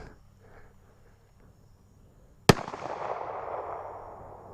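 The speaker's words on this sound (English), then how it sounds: "First 3 are 410 long, or 45 long Colt" A single sharp .45 Long Colt revolver shot cracks outdoors after a quiet stretch, its boom rolling away in a long echoing tail over faint insect chirps.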